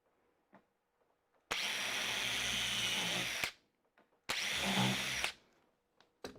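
A power drill driving screws into wood on a woodworking project, two sustained whirring bursts of about two seconds and one second, loud and close, with faint handling knocks between them and no talking.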